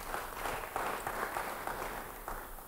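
A church congregation applauds during a sermon, a soft, distant wash of clapping that holds steady throughout.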